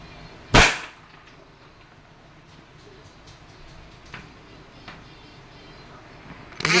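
A Wingun 708 revolver fires steel BBs at a glass bottle inside a box, giving one sharp, loud crack near the start, faint small clicks after it, and a second sharp snap at the very end.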